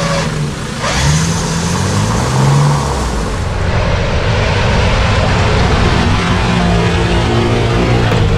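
A Ford Ranger's engine revs hard and steadily while towing a stuck car out of sand, a loud sustained roar with rough rumble and wind-like noise throughout.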